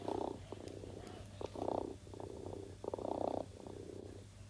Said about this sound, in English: I do think the purr on the Joy for All is a lot more realistic and authentic.